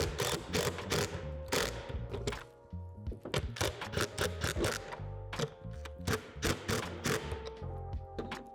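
Cap nuts being tightened on the hardware of a Lifetime 50-gallon rotating plastic composter, with dense repeated clicking and ratcheting thunks in quick bursts, close and fairly loud, with no voices.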